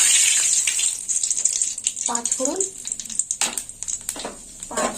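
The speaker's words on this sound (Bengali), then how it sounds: "ফোড়নটা একটু ভাজা হোক" Two bay leaves fry in hot oil for tempering, a close sizzle and crackle broken by sharp pops and clatters, with a voice talking briefly over it.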